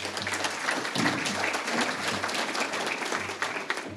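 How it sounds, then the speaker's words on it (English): Steady applause from a luncheon audience at a leadership awards event, dense clapping sustained throughout at moderate distance with little talk, under a low steady hum. "Please give him a round of applause."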